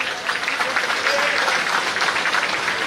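Audience applause at a foundation-stone laying ceremony for infrastructure projects, a steady sustained wash of clapping from a large crowd, loud and even with no break.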